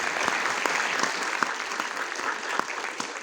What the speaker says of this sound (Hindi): तो मैं चाहूँगा कि आप एक बार ज़ोर से इन सब के लिए तालियां दें